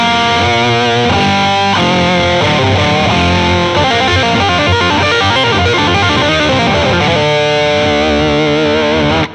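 An electric guitar played through a MonoNeon Whammy pedal shifted one to two octaves down, giving a thick, distorted, sustained riff with bending pitch that plays steadily throughout and stands alone.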